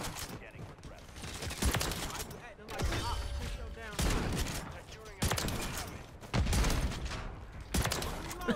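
Heavy shotgun blasts in Call of Duty MW3 with the Reclaimer 18 boom in loud bursts, several in quick succession, over dense game noise with a voice talking throughout.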